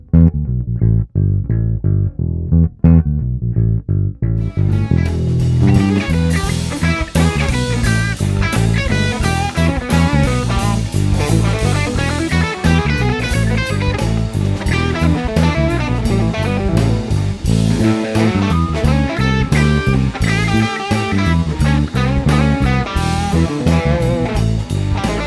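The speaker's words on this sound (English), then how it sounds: "And then back to that funky bass riff." Funky blues bass riff, opening with a few sparse notes and then joined by a full band groove for over twenty seconds of dense, continuous, loud playing.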